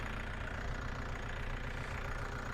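A tractor engine runs steadily with a low, constant rumble and mechanical knocking, close by and unbroken for the whole stretch.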